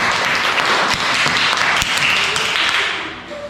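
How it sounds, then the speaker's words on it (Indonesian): A class of students bursts into loud, close, dense clapping that carries steadily for about three seconds before tapering off. "tepuk tangan dulu."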